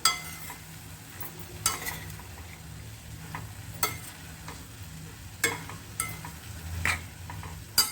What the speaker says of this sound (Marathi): परत एकदा हे छान परतून घेऊया